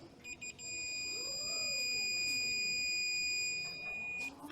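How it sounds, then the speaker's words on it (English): A continuity tester gives a steady high electronic beep continuously for several seconds across a vehicle's neutral safety switch, fairly faint, over low background hum. "In neutral, you should hear a beep here."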